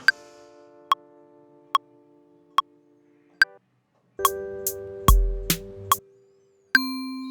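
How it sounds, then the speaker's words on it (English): A bell sample in Ableton Live strikes five evenly spaced ringing tones. A denser burst of overlapping bell hits with a low thud follows, then one final sustained ding. No talking. "This is the bell sound"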